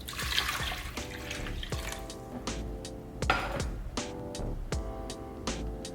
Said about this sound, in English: I'm gonna just split this water in between 2 bowls.